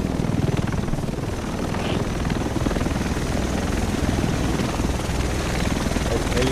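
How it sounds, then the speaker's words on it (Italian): A helicopter flies in a video game, its steady rotor drone filling the whole stretch at an even, fairly loud level while voices talk over it. "Elicottero. Gli altri dovrebbero essere su questo elicottero."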